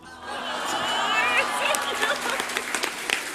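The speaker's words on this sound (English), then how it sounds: "I know you are giving claps" Audience applause and clapping from a crowd at a gathering, building to steady clapping with scattered sharper claps and murmuring voices mixed in throughout.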